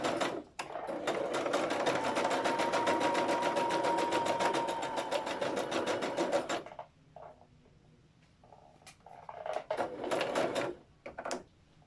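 A sewing machine runs a steady, loud burst of stitching along a half-inch seam for several seconds, then stops, followed by quieter handling clatter and a few short restarts of the needle.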